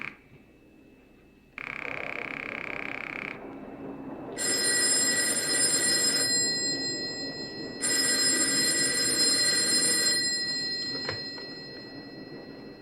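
An old-fashioned telephone bell rings in two long bursts, loud and close, with a brief tone and room noise before and between, from a TV drama scene.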